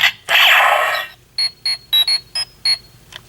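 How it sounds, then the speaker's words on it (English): A Power Rangers Deluxe Legendary Morpher toy plays its communicator beep: a burst of electronic chime, then six short, evenly spaced high beeps, close and clear. "it plays the communicator beep"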